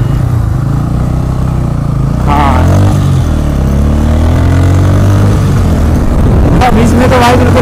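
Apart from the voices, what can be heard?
motorcycles riding at group bike event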